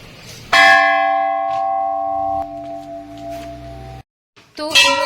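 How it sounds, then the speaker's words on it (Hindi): A temple bell at Ghorakhal temple is struck twice, the first ring loud and sustained with a long metallic hum that decays over several seconds, then a second sharp strike after a brief pause. "चलो बजाओ घंटी।"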